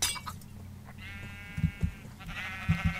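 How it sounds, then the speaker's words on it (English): A sheep in the Minecraft video game gives a drawn-out bleat, mixed with a few short low thumps and clatters from game action. "Sheep!"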